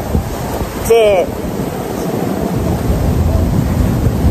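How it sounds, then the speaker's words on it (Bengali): Ocean waves roll in at Jomtien Beach in Pattaya, a loud, steady roar of surf mixed with gusting wind buffeting the microphone, with a brief voice heard over it near the start. "সমুদ্রের এত ঢেউ"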